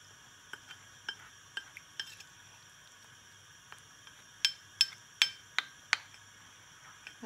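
Wine being stirred into starch in a small fondue pot for gluten-free Savoyard fondue: faint scattered clinks of a utensil against the pot, then a quick run of louder, sharper taps near the end.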